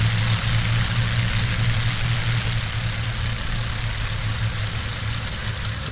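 A P-40C fighter's engine idles just after start-up in the IL-2 flight simulator, a loud, steady low drone with a constant throbbing hum running unbroken and close.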